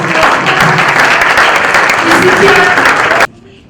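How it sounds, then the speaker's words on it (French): Sustained applause from an audience in a hall during a book launch ceremony, dense and steady for about three seconds before cutting off abruptly, with a voice faintly audible beneath. "Est-ce qu'on peut applaudir s'il vous plaît?"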